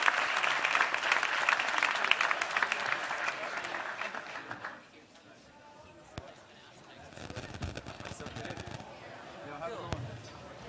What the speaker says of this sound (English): please, a round of applause for our guest